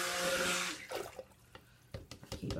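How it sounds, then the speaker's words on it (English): A stick blender used for soap making is rinsed in a container of hot water, giving a brief burst of running, splashing water followed by scattered sloshes and drips, quiet and close with no voices. "I'm going to go ahead and clean my stick blender off, just in case I do have to start blending these again."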